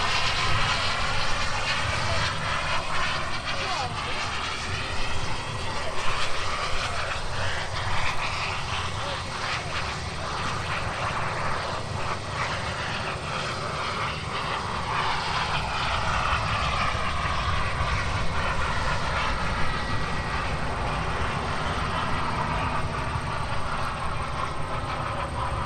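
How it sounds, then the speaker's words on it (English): A United airliner's IAE V2500 jet engines roar steadily at an airport for the whole stretch, a broad, loud exhaust rumble with slowly shifting tone as the aircraft moves past. "Listen to the exhaust on the IAEV 2500 engines, John."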